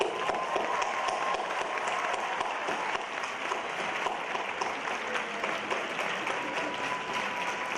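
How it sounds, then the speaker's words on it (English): A graduation audience gives the teachers a sustained round of applause, dense steady clapping from a large crowd that holds evenly throughout. "Our teachers are amazing, and they deserve a huge, loud round of applause."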